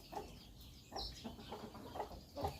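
Chickens in a backyard coop cluck repeatedly in short, soft bursts against faint background noise, with no talking.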